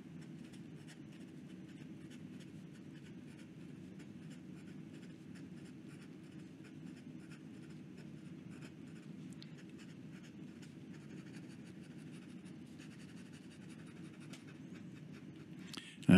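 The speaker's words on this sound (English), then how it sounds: "it's very scratchy, as you can see, it's digging into the paper." A scratchy nib of a 1980s Pelikan M200 fountain pen writing quickly on paper, a quiet continuous dry scratching with small ticks, faint and close, over a low background hum.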